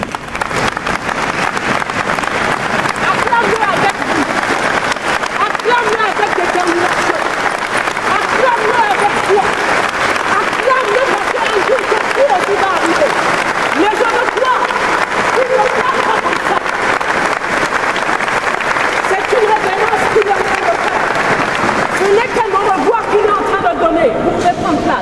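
Sustained applause from a crowd at a funeral service for a president of the CAT, dense and steady for the whole stretch, with cheering voices and babble mixed into the clapping.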